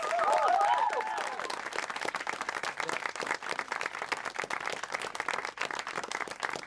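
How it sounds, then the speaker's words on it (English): A theatre audience at an Edinburgh Fringe show breaks into sustained applause, a dense wash of clapping that stays steady throughout, with brief whoops rising early on. "So one big round of applause."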